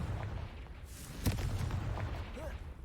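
A booming explosive spell blast from the Hogwarts Legacy video game bursts out amid a busy, rumbling game soundscape, with spoken voices around it.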